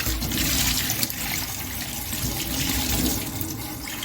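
Tap water runs steadily into a sink while a grill pan is rinsed under hot water, a continuous close splashing wash with no talk.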